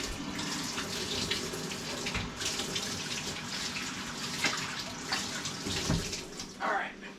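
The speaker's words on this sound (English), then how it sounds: "So I'm going to wash my hands." Hands being washed under a running kitchen tap, a steady close rush of water with splashing and slight shifts as the hands move beneath the stream.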